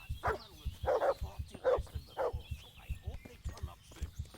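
A dog in Kingdom Come: Deliverance barks repeatedly in short, evenly spaced bursts over steady rhythmic hoofbeats from riding, fairly close, with a faint tonal background.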